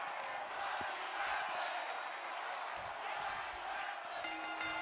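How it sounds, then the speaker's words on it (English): A large wrestling crowd chants for Johnny Wrestling in a rhythmic, sustained roar filling the arena, with a commentator's voice faintly over the top. "As the crowd chant for Johnny Wrestling."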